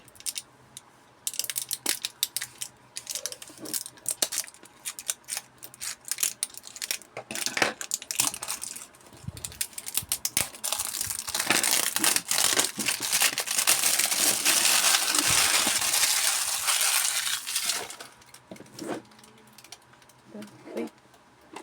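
A parcel being opened by hand: repeated crinkling, crumpling and tearing of plastic packaging, busy and close, building to a long sustained rustle, with bits of talking.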